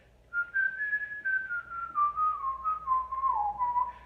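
A lone person whistles a melodic tune for a video-game-style song, clear and close, with a steady phrase gliding gradually downward in pitch over a few seconds against a quiet background.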